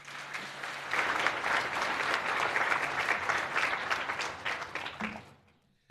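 An awards-ceremony audience claps steadily for about five seconds, a dense, even wash of hands that tapers off and stops near the end, with no talking.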